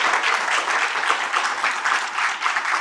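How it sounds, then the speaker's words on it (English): A conference audience applauds, filling the room with dense, even clapping at fairly close range that keeps going throughout without any breaks. "give yourself a round of applause"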